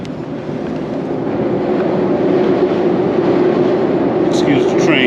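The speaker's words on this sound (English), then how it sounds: "Excuse the train." A train rumbles past steadily nearby with a continuous low roar that builds and holds, heard outdoors beside a 2024 Harley-Davidson Road Glide motorcycle being worked on.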